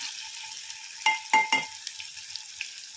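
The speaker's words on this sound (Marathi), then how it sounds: "मी इथे बटाटा आणि शेजवाची शेंग आधी टाकून घेतली आहे आणि तेलावर मी परतवत आहे" Potato pieces and drumsticks (moringa pods) fry in hot oil in a home kitchen, a steady sizzle broken by three sharp scraping knocks of a stirring utensil against the pan.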